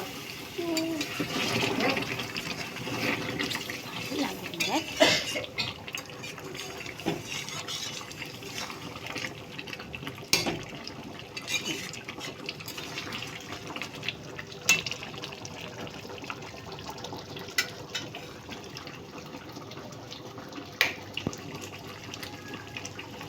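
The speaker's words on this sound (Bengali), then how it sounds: "এবার আমি ফুটন্ত গরম জল দিয়ে দেবো জ্বালা" Boiling hot water is poured into a pot of mutton curry, a faint pouring and splashing near the start, followed by quieter clinks and stirring sounds in a home kitchen, with a voice speaking at times.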